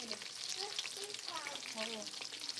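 Tempura battered food frying crispy in a pan in a rural Philippine kitchen, a steady close sizzle and crackle running throughout with faint stirring clinks on top.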